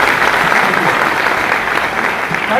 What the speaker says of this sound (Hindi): एक बार इनको ताली बजा के हम स्वागत कर लेते हैं।